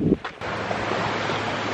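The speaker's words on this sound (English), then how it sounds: "Waves are crashing from a boat that went by." Waves from a passing boat wash onto the Lake Superior shore on Isle Royale, a brief rustle followed by a steady broadband wash of surf and wind, moderately loud and close, with no talk.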